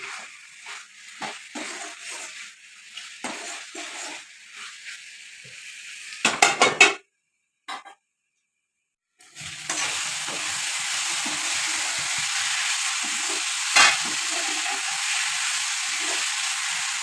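Potatoes are stirred in a pan for an Assamese-style chicken dish, with utensil scrapes and clatter, a brief silence, then a steady loud sizzle of frying with an occasional clink.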